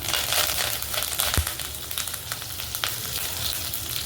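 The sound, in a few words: mustard seeds and curry leaves sizzling in hot oil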